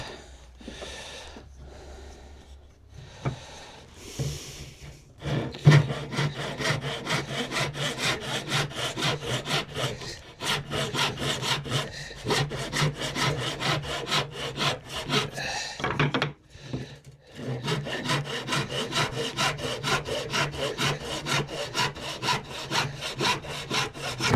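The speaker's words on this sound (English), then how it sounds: "Then we'll do the round over with a rasp." Rasp rounding over the edge of a wooden dog gate part, a steady run of rapid rough rasping strokes close up, loud and continuous after a few slower starting strokes, with one brief pause partway through.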